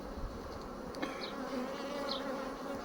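Honey bees buzzing in a dense, steady drone during a swarm inspection, close and continuous with faint individual bees passing, no talk.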